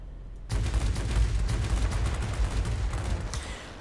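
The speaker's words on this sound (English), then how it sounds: "Oh, look at those guns going off." Aircraft guns fire in sustained bursts in World of Warplanes, a Me 109 in action, rattling loud and dense for several seconds after a brief quiet start, with no voices.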